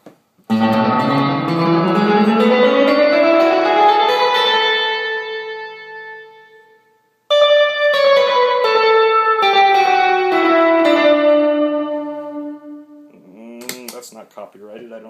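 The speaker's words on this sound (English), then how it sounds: "let's put the reverb back and turn up the dwell, which should give us a faster decay on the reverb" Electric guitar through a BYOC MojoVerb reverb pedal built for a MojoCaster: two loud strummed chords ring out, each with a long, washy reverb tail fading away, followed by a brief voice at the end.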